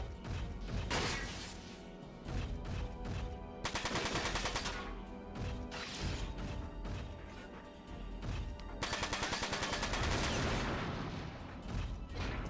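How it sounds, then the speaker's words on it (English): Machine gun fire rattles through the Front Mission 4 video game in long, dense, continuous bursts mixed with crashing impacts and booms, loud and close throughout. "Machine gun."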